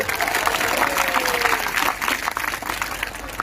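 A large crowd in Barmer stadium, Rajasthan, at a Bageshwar Dham religious gathering claps loudly and steadily for a few seconds, dense applause filling the space with some voices mixed in.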